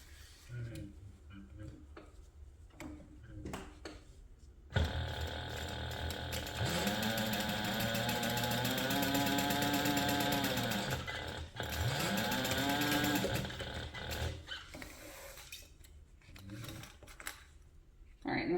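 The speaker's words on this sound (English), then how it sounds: "I'm just going to sew the bottom shut." A sewing machine runs in one long stitching burst as it sews the bottom of a handbag shut, rising and falling in speed near the mic, with a short pause and brief mechanical clicks around it.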